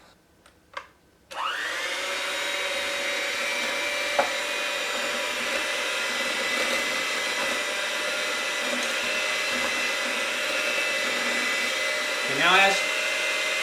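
An electric mixer whirs steadily for over ten seconds, blending keto blueberry muffin batter. A few soft taps come before it starts, it stays loud and close throughout, and a brief voice is heard near the start.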